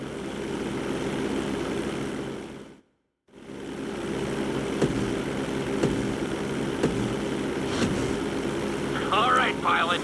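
Propeller airplane engine droning steadily in flight in GTA 5, a continuous loud hum that drops out to silence for a moment and then returns, with a voice talking over the later part.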